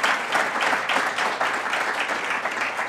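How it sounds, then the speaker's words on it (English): An audience claps for a speaker at a public event on New York City schools, a dense, steady round of applause heard close up and without talking. "So if we could just give Deirdre another round of applause."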